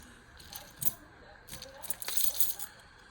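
Keys on a Nite Ize Keychain 360 magnetic quick connector jangle and clink in a few quick, light bursts, close by and fairly quiet.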